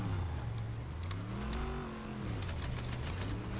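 Car engine in the video game Fortnite, a steady droning motor with shifting pitch as it revs and slows, loud and continuous throughout.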